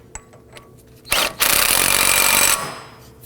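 Power tool, likely an impact wrench, running up a 32 mm axle nut on a 2005-2009 Subaru Legacy 2.5L front CV axle, one loud sustained burst of about a second and a half, close by after a short quiet start.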